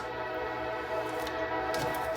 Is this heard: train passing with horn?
yes